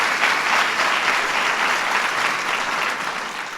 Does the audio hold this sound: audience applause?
yes